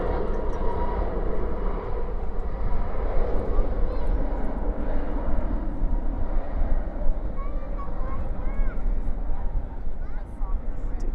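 A jet airliner departing at night from Dallas/Fort Worth airport gives a continuous broad engine roar, with people talking faintly underneath.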